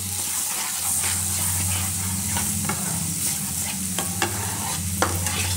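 Tomato paste hits frying spices in a pan for a village-style curry, giving a loud, steady sizzle with a few sharp clicks of a spoon stirring close by.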